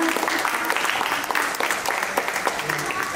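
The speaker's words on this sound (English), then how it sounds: "A big clap for everyone" Energetic group clapping from campers and parents at a summer camp fun day, dense and continuous with voices mixed in.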